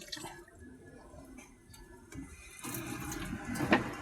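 Quiet handling noises, then a little water pours and splashes briefly into a container at close range while spaghetti noodles are being prepared.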